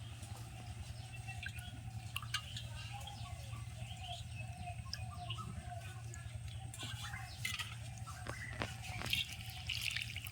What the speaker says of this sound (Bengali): দাঁড়াও জলটা চলে যাক আস্তে আস্তে